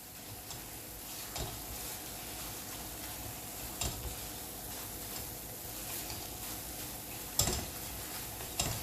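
Peda dough mixture stirred in a hot pan gives a steady, soft, close scraping and faint sizzling, with a few sharper spoon knocks against the pan spread through it.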